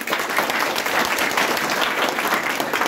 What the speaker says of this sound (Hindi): तो जोरदार तालियां हो जाए।